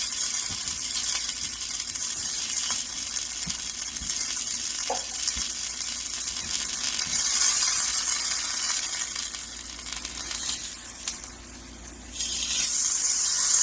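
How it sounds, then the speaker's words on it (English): A burrito sears on a hot grill with a soft, continuous sizzle and faint hiss, with a few small ticks and clinks, and no one talking. "We're gonna put it on the grill. Alright, now we're not looking to do anything other than get a nice little sear on all sides."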